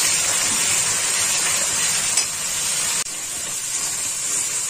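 Spice masala for chitol fish kaliya fries in a pan with a loud, continuous hissing sizzle that barely changes throughout, apart from a small dip near the end.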